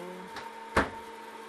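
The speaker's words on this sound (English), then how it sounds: "I got some butter in the microwave." A microwave oven melting butter gives off a faint, steady electrical hum, broken by a soft knock and then one sharper click; no one speaks.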